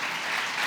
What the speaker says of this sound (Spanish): Dale un fuerte aplauso al Señor por ello.